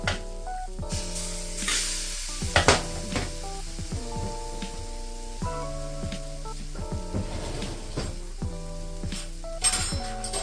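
Goulash soup in a pan sizzles as water and oil are poured in, giving sharp crackling bursts and spits over a steady frying hiss, with occasional clinks of a utensil against the pan, close and fairly loud.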